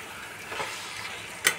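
Fried potatoes and rice sizzling in a pan as they are stirred, a steady close hiss with a soft scrape and one sharp utensil clink near the end.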